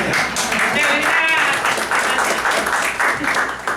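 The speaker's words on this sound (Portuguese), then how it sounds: "Esse a gente tem que bater palmas 2 vezes" Audience applause at the launch event of a labour law commission, a steady wash of clapping lasting the whole stretch with voices mixed in beneath it.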